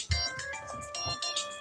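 A mobile phone ringtone plays during a church leaders' talk on mental health, a steady tonal melody with sustained electronic notes running through the whole moment under a faint voice.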